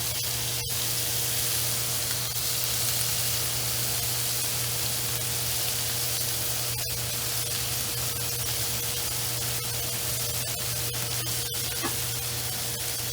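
Bacon-wrapped scallops frying in a pan give off a loud, continuous hiss of sizzling fat, dense and close, with occasional sharp pops and spits over the long steady sound.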